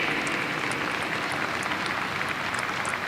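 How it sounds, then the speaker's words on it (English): A dinner-hall audience at a baseball showcase gives a final round of applause, a dense and steady wash of clapping that lasts the whole stretch with a few sharper individual claps standing out. "Ladies and gentlemen, a final round of applause for the Power Showcase World Classic"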